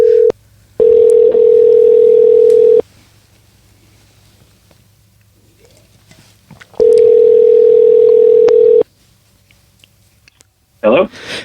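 A telephone call rings out with two long, steady electronic tone bursts about six seconds apart, each lasting around two seconds, separated by near silence, followed by a short click or burst at the end.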